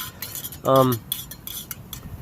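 Metal groundhog tent stake stirring coffee in a mug outdoors, a few light clinks and scrapes against the cup, with a short voice sound partway through.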